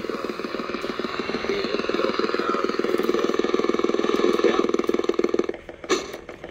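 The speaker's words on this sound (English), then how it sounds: "all that noise you hear is the AM radio picking up the camera here." An AM radio picking up interference from a nearby camera, a steady rough buzzing static with a fast pulsing rattle that holds for several seconds, then drops away into a brief crackle near the end.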